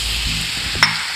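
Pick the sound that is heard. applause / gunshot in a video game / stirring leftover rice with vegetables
stirring leftover rice with vegetables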